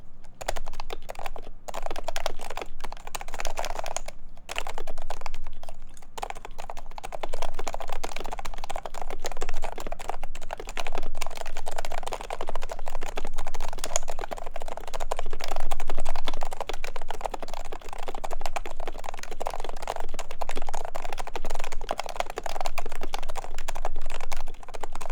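Steady, rapid typing on a Keycult No 1 TKL mechanical keyboard, with dense clacking keystrokes close up and continuous for the whole stretch, with a few brief pauses near the start.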